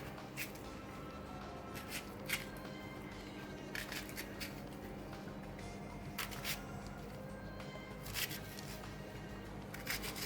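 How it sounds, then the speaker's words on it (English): A knife cuts through purple onions on a board, giving repeated crisp slicing clicks and crunches in an uneven rhythm. Quiet and close, with no talking. "and cut the purple onions too."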